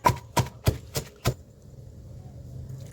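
Dried red chillies are pounded in a mortar for a veldt grape (nalleru) chutney: five sharp, evenly spaced thuds land in quick succession, close and clear, followed by quiet room tone.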